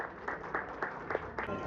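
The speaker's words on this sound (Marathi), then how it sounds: "टाळ्या वाजत राहिल्या पाहिजे" Applause from an audience at an awards ceremony, a soft, steady patter of clapping with faint periodic swells, fairly distant and low in level throughout.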